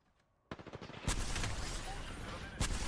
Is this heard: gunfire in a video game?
yes